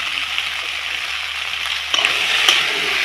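Spinach samosa filling seasoned with salt and stirred in a hot pan, a continuous bright sizzle with a few louder scraping stirs near the end, no talking.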